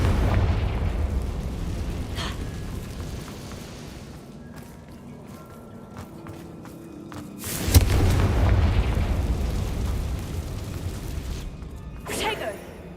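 Confringo blasting spell explosions in Hogwarts Legacy: a sharp, loud burst near the middle followed by a rumbling tail, with a smaller blast near the end, over a low game ambience.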